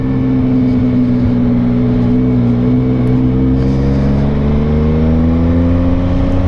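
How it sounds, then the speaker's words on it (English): F3 motorcycle fitted with an aftermarket exhaust, idling up into a loud, steady rev close by, the engine tone rising slightly and holding. "Whatever brand exhaust that is on this thing is a whole lot nicer sounding than that Two Brothers."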